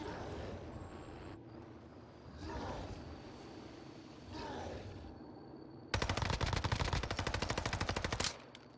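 Gunfire in a video game. A few scattered distant shots over ambient game noise give way to a loud, rapid automatic burst lasting about two seconds before it cuts off.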